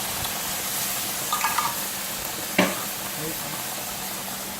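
Mushrooms go into a hot pan and sizzle with a steady, soft hiss, broken by a few light clatters and one sharper knock near the middle.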